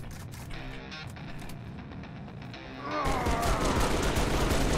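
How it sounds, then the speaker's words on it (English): Gunfire in Halo: Reach: a rapid burst of repeated shots, then a louder, denser stretch of sustained firing and impacts in the final two seconds, with no talk. "That was a lot of shots."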